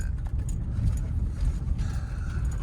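A 2008 Range Rover Supercharged holds second gear as it drops down an off-road woodland trail, its steady low engine rumble and drivetrain drone constant and close, with faint rattles and knocks of the truck over rough ground.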